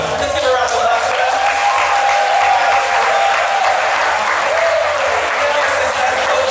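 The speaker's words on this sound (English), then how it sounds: "let's give a round of applause for that" An audience at a university first-year service day event breaks into loud, sustained applause, the clapping dense and close, with voices and cheers mixed in.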